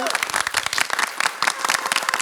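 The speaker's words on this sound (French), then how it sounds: "j'aimerais qu'on applaudisse bien fort Sam Amigan" A talk-show audience breaks into lively applause for Sam Amigan, a thick wash of clapping that carries on throughout while voices and cheers mix in.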